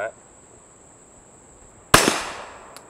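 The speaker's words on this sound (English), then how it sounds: "We're going to be demoing it, sound metering, with 9mm 147 grain ammunition on a Glock 17." A single suppressed 9mm shot from a Glock 17 fitted with a Mystic X silencer, firing 147 grain ammunition: one sharp, loud crack with a short decaying tail, after a near-silent pause over a faint steady whine.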